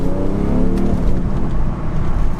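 A loud, low diesel engine rumble builds as a BMW 435d xDrive accelerates, rising in pitch briefly, close by and without speech.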